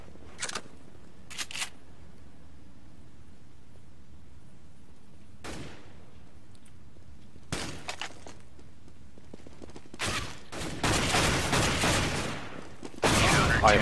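Counter-Strike: Global Offensive gunfire cracks out in short, sharp bursts, isolated shots early on, then heavier rapid volleys near the end over a quiet game background.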